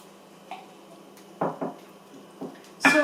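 Green bean casserole being tossed and mixed in a dish, with a few soft clinks and scrapes of a utensil against the dish and one louder knock near the end, close by and otherwise quiet.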